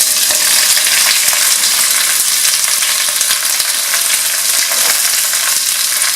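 Spinach goes into a pan of cooked rice in hot oil, producing a loud, continuous sizzle with scattered crackles and stirring scrapes throughout.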